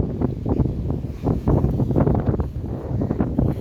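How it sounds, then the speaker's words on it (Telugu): Loud, blustery wind buffeting the microphone at a guest house in Kuwait, rumbling and gusting continuously throughout. "గాలి ఎక్కువ పడుతున్నది ఫ్రెండ్స్."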